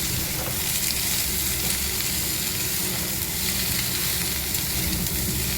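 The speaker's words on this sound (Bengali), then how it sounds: "একটুখানি ভেজে নেই" Fresh pumpkin stems fry in a pan, producing a dense, loud, continuous sizzle that holds steady and close throughout.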